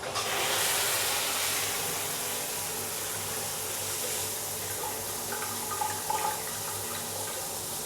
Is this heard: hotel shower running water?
yes